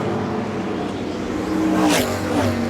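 NASCAR race cars roaring around Darlington Raceway, engines droning loud and close with a rising surge as one pack sweeps past, a steady high-revving roar throughout.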